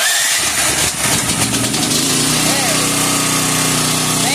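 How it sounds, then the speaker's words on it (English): A petrol generator engine is being coaxed into starting, with rough mechanical churning and pull-start effort early on, then a steady running engine drone that is loud and close throughout. "I'm having a hard time getting the generator started"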